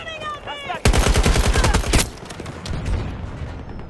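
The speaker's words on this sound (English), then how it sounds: "I was shooting the farther one" Gunfire in the Battlefield 2042 video game: a rapid, loud automatic burst of roughly a dozen shots lasting over a second, then a diminishing echoing rumble, with a brief voice just before.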